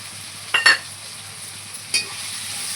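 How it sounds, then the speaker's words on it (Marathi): Fried onion, tomato and peas stirred in a pan, a low steady sizzle with a few sharp scraping clinks of the spoon against the metal, close and without voices. "यांना छान मिक्स करून घेऊया।"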